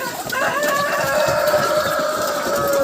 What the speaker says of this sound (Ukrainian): ця курка тут, я не знаю, як вона сюди попала